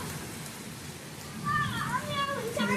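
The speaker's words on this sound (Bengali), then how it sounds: "দেখতে পাচ্ছ বৃষ্টি শুরু হয়ে গেছে।" Rain begins falling outside as a soft, steady hiss, with a voice briefly audible over it partway through.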